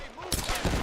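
Pistol fire in the Tomb Raider game: after a quiet start, a few sharp loud shots land close together over a busy game soundscape, followed by a further crack near the end.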